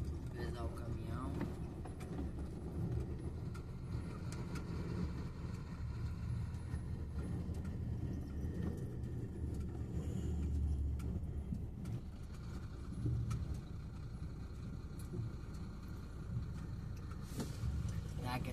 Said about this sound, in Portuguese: Pesar o caminhão.